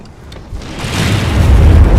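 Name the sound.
barrel bomb explosion in Monster Hunter World video game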